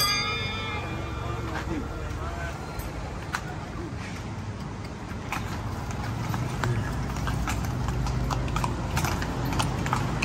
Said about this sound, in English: Take a horse ride through town if you want.